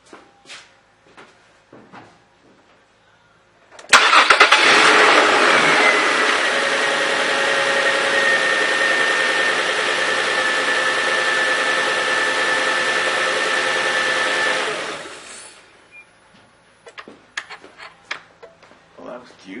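A car engine cranks and catches after fresh oil has been added, then idles steadily and fairly loud for about ten seconds before shutting off, with some faint clatter before and after.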